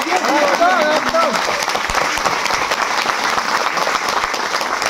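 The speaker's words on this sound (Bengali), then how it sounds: "আমাদের ডিরেক্টরের জন্য একটা জোরে হাততালি হোক।" Loud, sustained applause fills the room for a film director at a screening event of the movie Pariah, continuous clapping from a crowd with a few voices and whistle-like calls mixed in early on.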